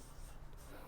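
A soft 6B pencil scratching across paper, a brief close dry rubbing stroke, quiet and alone.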